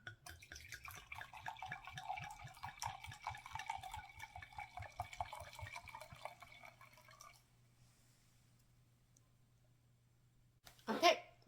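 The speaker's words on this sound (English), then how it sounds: "Let's start with the pour." Dark Horse Rosé wine poured into a glass, a close, quiet trickling pour lasting several seconds that then stops, followed by near silence and a brief clink near the end.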